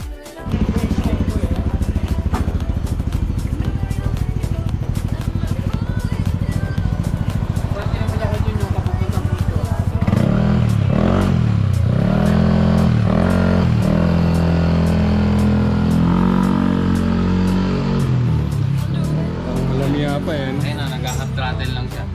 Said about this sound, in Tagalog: sisimulan ng patakbuhin or iandar ang ating motor sa kalsada